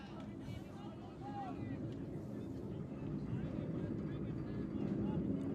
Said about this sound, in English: Windy, breezy night